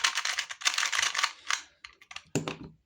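A 2x2 puzzle cube twisted quickly to scramble it, dense clicking turns in fast bursts with a short pause before a final few clacks, close and isolated.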